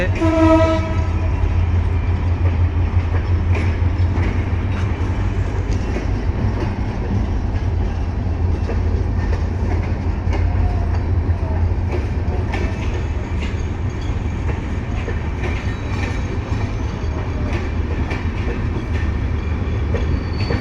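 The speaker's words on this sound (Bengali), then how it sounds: "পঞ্চগড়ের উদ্দেশ্যে ট্রেনটি" A Bangladesh Railway train bound for Panchagarh departs, its horn blaring loud at the start over a continuous heavy rumble and clatter of passing wagons that carries on steadily to the end.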